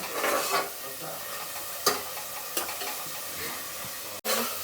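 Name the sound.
onions frying in a pan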